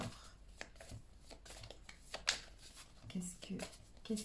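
Dixit game cards being shuffled, a run of soft riffling flicks and taps close by, with a person speaking French at times over it.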